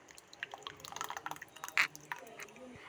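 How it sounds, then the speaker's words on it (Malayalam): Quiet, close wet plops and soft drips as thick curd is poured into a bowl for a mango yogurt curry, coming in irregular small splats. "ഈ കട്ടത്തൈരാണ് നമ്മൾ ഇതിലേക്ക് ഫസ്റ്റ് ഒഴിക്കുന്നത്"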